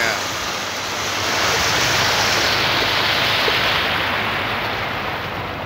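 A boat motors through a flooded street in Bucharest after heavy rain, giving a steady loud wash of churning water and engine noise throughout, with faint voices underneath.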